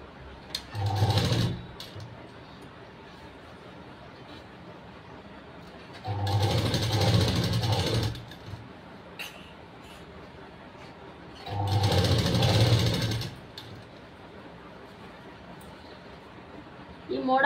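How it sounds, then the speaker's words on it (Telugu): A sewing machine stitches a frill blouse in three separate runs of a few seconds each. A close, steady motor whir fills each run, with quieter pauses between them and a voice present. "ఈ మార్కింగ్ దగ్గరికి ఈ విధంగా నేను స్టిచ్చింగ్ అనేది చేస్తున్నాను."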